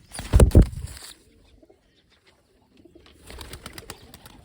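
Pigeons being handled and sold in a Gujarati bird market setting, with a loud burst of fluttering and cooing at the start, then a quiet gap before softer, scattered bird sounds and rustling return.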